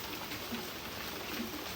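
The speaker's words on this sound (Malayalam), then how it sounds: "പുറത്ത് നല്ല മഴയാട്ടോ, നല്ല മഴയാണ്." Heavy rain falling behind a house, a dense steady patter that runs evenly throughout.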